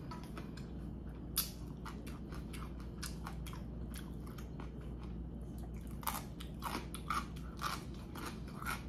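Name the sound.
eating Jjapaghetti instant black bean noodles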